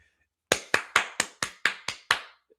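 Sharp claps from an audience in a played recording: eight crisp, evenly spaced claps in quick, steady rhythm, clear and close, with no talking over them.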